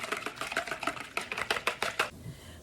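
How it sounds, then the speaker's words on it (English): Hand sanitizer ingredients and essential oil being beaten together by hand, a fast run of sharp tapping strokes against a container for about two seconds, then stopping. "we finished beating the essential oil, the ingredients together"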